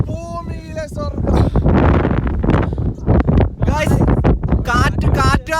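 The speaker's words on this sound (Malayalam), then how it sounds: "കാറ്റ് കാരണമൊന്നും കേക്കാൻ മേല." Strong wind buffets the microphone at a hilltop viewpoint in Vagamon, Idukki, a loud continuous rumble roaring beneath someone talking throughout.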